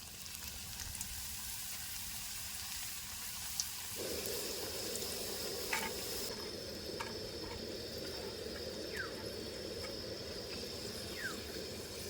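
Potato chips frying in hot oil in a village kitchen, a continuous bubbling sizzle that grows fuller partway through, with occasional faint clinks and no speech.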